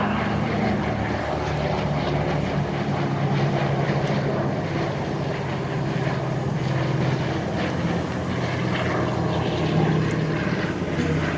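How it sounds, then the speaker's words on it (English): A C-47 warbird drones past on a photo pass at an airshow, its propeller engines giving a steady, loud, rough roar that holds throughout with no talking. "a nice photo pass for us with that C-47 aircraft"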